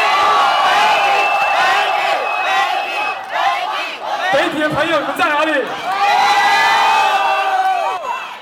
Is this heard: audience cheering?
yes